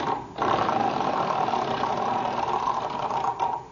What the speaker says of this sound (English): Liz, spin those wheels.